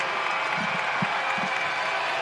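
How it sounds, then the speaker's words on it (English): A home crowd cheers at a college basketball game, Marshall against South Alabama, as a steady distant roar of voices with a few soft claps rising through it. "here comes the crowd. This is as loud as I think I've heard it in here all year"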